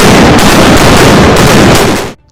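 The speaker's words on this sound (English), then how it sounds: "The port side batteries of heavy and light guns opened up in a steady staccato of smoke, fire, and cannonballs." A frigate's port-side batteries of heavy and light guns fire a broadside, a loud, dense roar of overlapping booms sustained for about two seconds before cutting off abruptly.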